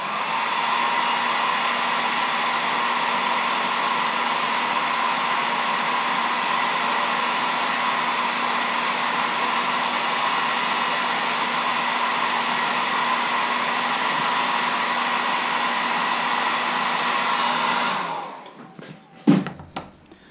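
Hair dryer blowing steadily to dry gray paint on a carved wood caricature letter opener, a loud continuous whooshing whine held for most of the stretch, then switched off and followed by a few thumps and knocks.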